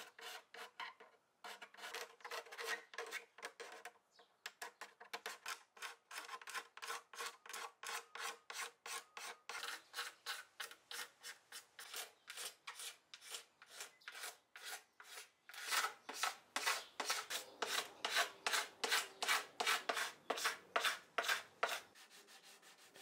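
Paint being scraped off the body of a vintage electric guitar: a steady, rhythmic series of short rasping strokes, close and fairly quiet, growing quicker and harsher toward the end.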